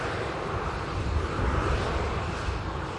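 A jet airliner's engines spool up at Manchester Airport, a steady broadband roar with a faint rising swell, heard from a distance with no talking.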